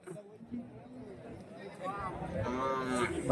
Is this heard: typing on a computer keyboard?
no